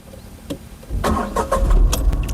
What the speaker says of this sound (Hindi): तो ये गाड़ी चालू हो गई है।